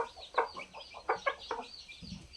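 A farm hen clucks in a run of short, uneven bursts, fairly close, with a brief low rustle near the end.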